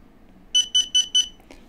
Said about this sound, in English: Right, it's going to start beeping.